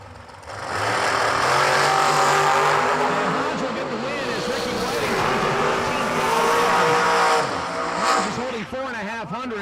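Dragsters at a New Year Nationals drag race roar down the strip, a loud sustained engine howl with sweeping pitch changes and a rising whine near the end, with a commentator talking over it.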